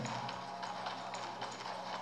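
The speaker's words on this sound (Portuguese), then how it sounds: "Opa, o cavalo" Horse hooves clip-clopping in the mobile action game Darkness Rises, a steady rhythmic trot over a dense, loud game soundtrack.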